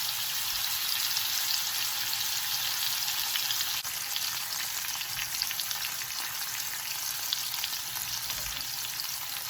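Spicy Korean skirt steak sizzles loudly and continuously on a hot grill pan, a dense close crackle with fine popping that holds steady throughout, with no talk.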